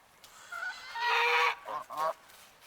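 A goose honks close by, a few harsh, nasal squawks in two short bursts with a brief gap, loud against a quiet outdoor background.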